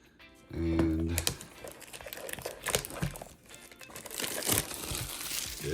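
Foil wrappers of 2025 Topps Resurgence football card packs are torn and crinkled open close up, giving a run of sharp crackling rips and crunchy rustles that keep going through the stretch, with a voice talking at moments.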